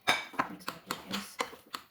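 A utensil mixes mashed potato with carrots, parsley and green onion in a bowl, giving a series of soft, evenly spaced clinks and scrapes against the bowl, close and fairly quiet, with no talking.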